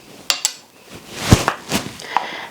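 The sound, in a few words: spoons tapped against the side of a pot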